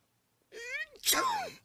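A single loud, close human sneeze, with a short drawn-in breath followed by the sharp burst, heard alone.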